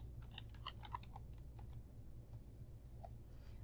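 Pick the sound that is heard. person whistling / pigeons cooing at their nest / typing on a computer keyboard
typing on a computer keyboard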